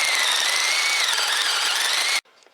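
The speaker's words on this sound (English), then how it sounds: "we're going to drill our 7/8 inch hole into each one of those 4" A power drill bores a 7/8 inch hole into a 2x4, a loud, steady high whine that holds for about two seconds and then cuts off abruptly, leaving faint residual noise.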